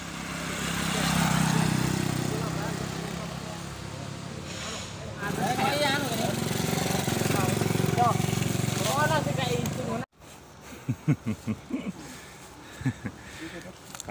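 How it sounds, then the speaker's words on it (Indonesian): Motorcycles pass along a roadside where workers load pine logs, a steady engine drone with rising and falling passes under nearby talk, then quieter with intermittent knocks. "Ora dengerin motor ki rame men to iki."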